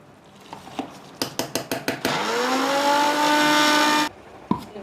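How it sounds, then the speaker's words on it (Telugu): A kitchen mixer grinder grinds lentils and jaggery for Ugadi bakshalu, giving several quick rattling jolts, then a loud whirring motor that rises in pitch for about two seconds before cutting off abruptly. "మిక్సీ పట్టుకొచ్చిన పప్పు బెల్లము"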